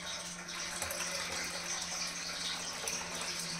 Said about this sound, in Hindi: अब इसमें मैं और पानी डाल दूँ